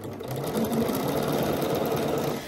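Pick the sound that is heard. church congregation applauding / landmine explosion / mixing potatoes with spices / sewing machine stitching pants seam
sewing machine stitching pants seam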